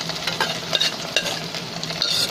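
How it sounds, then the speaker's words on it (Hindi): Pre-cooked long-grain boiled rice tipped into a pan over low heat and stirred, a steady soft rustle and sizzle with spoon scrapes, close and alone. "और डाल दीजिए हमारा पूरे का पूरे राइस"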